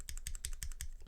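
Quick, steady typing on a mechanical keyboard with brown switches, each keystroke a sharp, slightly scratchy clack landing in an even rhythm, close and clear with no voices.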